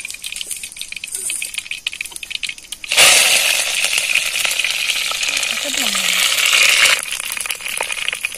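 Curry leaves and mustard seeds hit hot oil in a pan, bursting into a loud, steady crackling sizzle that runs for about four seconds before dropping back to a quieter background.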